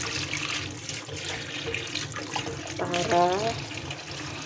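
Tap water runs steadily into a sink while freshly harvested vegetables from a home garden are washed, and a person talks over the flow.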